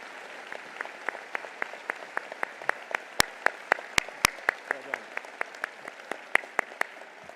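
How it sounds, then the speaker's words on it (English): Audience at a 2022 University of North Dakota summer commencement ceremony claps steadily and fairly loudly throughout, with a few sharp close claps standing out from the crowd. "How about we give them a round of applause for everything that they do?"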